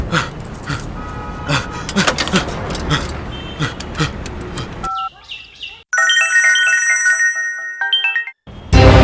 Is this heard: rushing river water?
no